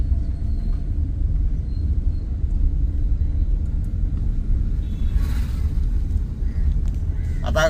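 A car cruising along a road, a steady low engine and road rumble throughout, with a brief brighter swish midway and a short tonal chirp near the end.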